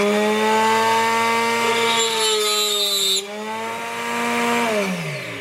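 A small high-speed bench drill screeches loudly through steel, a shrill, tonal squeal that wavers and drops in pitch as the bit bites, then tails off.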